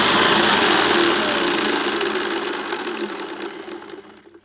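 A Hoover Commercial C1310 vacuum cleaner runs with rattly bearings, a loud, close, buzzy motor whine with a rattling edge that gradually winds down and fades out toward the end.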